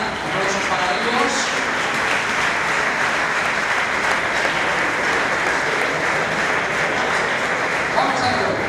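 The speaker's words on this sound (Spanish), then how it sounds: "Aplausos para ellos." A crowd applauds award winners at a gala for a footrace circuit, a loud and continuous wall of clapping that stays steady for almost nine seconds, with a few voices buried faintly underneath.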